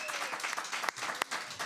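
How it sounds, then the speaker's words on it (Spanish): A brief burst of studio audience applause on a live morning magazine show in Havana, dense and fairly close, with a couple of sharp louder claps cutting through. "aplausos de nuevo para toda la capital"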